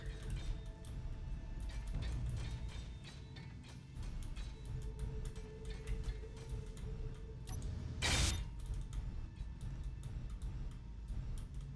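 Hand welding in the game Space Engineers: a steady, rapid ticking and crackling mechanical rattle runs throughout at moderate level, with a brief louder burst of hiss near the end.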